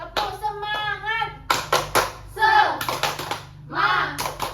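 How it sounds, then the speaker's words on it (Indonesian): A group of children claps a rhythmic spirit clap in a classroom, bursts of hand claps in a patterned beat mixed with children's chanting voices. "Tepuk semangat."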